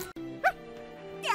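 A little cartoon puppy gives a pair of short, high yapping barks, one early and one at the end, over a steady tonal music bed in an animated Tom & Jerry Halloween scene.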